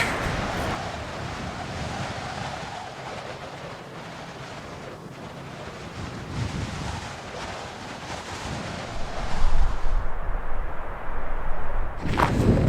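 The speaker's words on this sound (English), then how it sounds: "Shelter from the wind." Strong wind roars across an open cold plateau in the Kaibab region of the desert, a steady broadband rush with buffeting gusts on the microphone that swell louder toward the end, with no voices.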